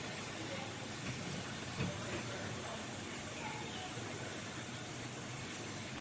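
Green chilies sizzle in hot oil with a dense, steady hiss and crackle, close and loud, continuing evenly with faint speech underneath.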